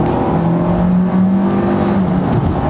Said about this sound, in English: It's got a buzzy, brash 4-cylinder sound to it, but it is a nice sounding engine